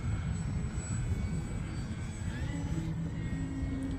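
An E-flite Extra 300 RC airplane flying in windy conditions, its propeller motor a steady distant drone with a faint high whine and a slight shift in pitch over gusty background noise.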